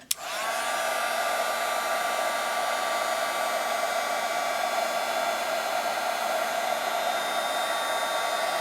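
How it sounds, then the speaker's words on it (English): A heat embossing tool blows steadily over stamped roses on cardstock, a loud, continuous whirring hiss that starts with a click and runs unbroken to the end with no talking. "now we're going to emboss these roses with the heat tool"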